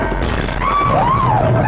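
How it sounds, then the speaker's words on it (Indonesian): A glass window shatters with a loud crash amid a tense score in the 2007 film The Mist, a brief burst of breaking followed by sustained music tones. "Jebol juga akhirnya kacanya."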